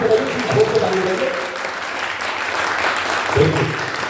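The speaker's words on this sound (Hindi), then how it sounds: "एक बार जोरदार ताली बजाइए, जोर से ताली बजाइए।" An audience applauds at a school event in Mumbai, a dense, steady patter of clapping filling the whole span, with a voice briefly heard over it near the start and again near the end.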